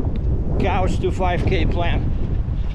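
Heavy gusts buffet the microphone during an outdoor jog in windy weather, a loud continuous rumble that runs beneath someone talking.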